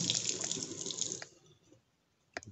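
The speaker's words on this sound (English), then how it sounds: "And I wash my hands again" Running tap water splashes steadily into a sink as hands are washed, then cuts off about halfway through, leaving a quiet room and a couple of faint drips near the end.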